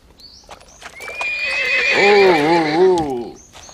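A horse gives a loud, close whinny that rises and then wavers before fading out, with faint hoof clops and small noises around it.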